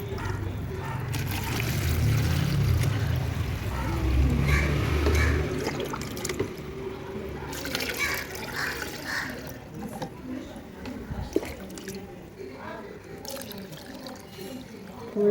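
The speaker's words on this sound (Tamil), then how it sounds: "பாருங்கள், தண்ணி ஊற்றிக்கலாம்." Water pours and gurgles steadily into a bottle, fairly quiet, with a low rumble and faint background noise.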